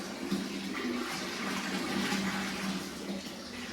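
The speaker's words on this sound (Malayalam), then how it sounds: "മീനൊന്നും വരാത്ത രീതിയിലാണ് ഒഴിച്ചുകൊണ്ടിരിക്കുന്നത്." Water pours steadily from a bucket into an oscar fish aquarium, a continuous close splashing rush that stays even in loudness from start to finish.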